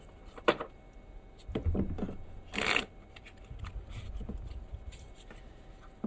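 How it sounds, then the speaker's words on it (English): A standard deck of playing cards shuffled by hand in a quiet room, heard as a few short, soft riffling bursts with pauses between them. "It's all mixed up, but I'll shuffle it"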